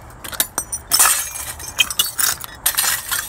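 Broken glass from scrapped car parts clinks and jingles as it is raked, a run of sharp, bright crunches and tinkles in irregular bursts, close and fairly loud with no talking.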